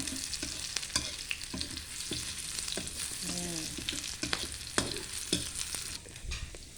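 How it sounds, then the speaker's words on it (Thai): Stir-frying in a pan for sweet and sour fish, a soft sizzle broken by frequent scraping strokes of a spatula. "เราผัดไปอีกแป๊บนึง"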